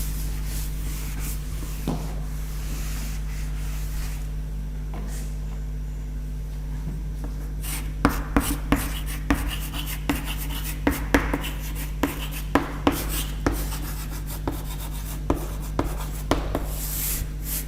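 A lecturer writes a ruler's name on a board during a history lecture. Steady scratching strokes are punctuated by sharp taps, close up, over a constant low hum.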